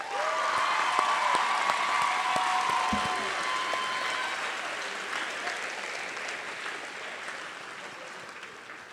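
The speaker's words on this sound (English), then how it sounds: "Let's have one more round of applause for our graduates" Applause for nursing graduates at a University of Memphis convocation ceremony, a broad roomful of clapping that swells at first and then gradually thins and fades, with faint voices mixed in.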